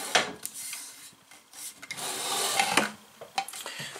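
A machine enclosure door slides along HIWIN linear rails during assembly of a PM727M mill with automatic tool changer, giving a steady, soft rolling rub with a few light knocks, close and alone.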